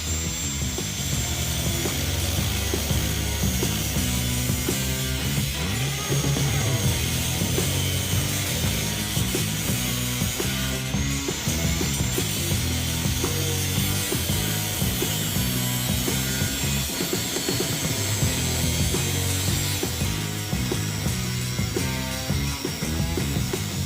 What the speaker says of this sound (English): try and cut down and out and get this panel out of here